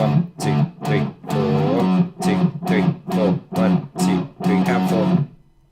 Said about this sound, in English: the whole of the second guitar part now sounds like this